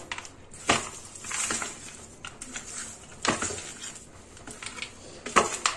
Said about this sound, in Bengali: এবার সব একসঙ্গে সুন্দর করে মেখে নেব